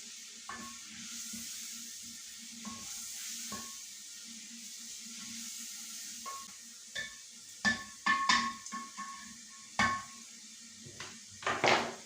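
Beef shank pieces for Lahori bong paye drop into a hot pot and sizzle, with a steady low frying hiss broken by several sharp clanks and stirring knocks, loudest toward the end; no talking.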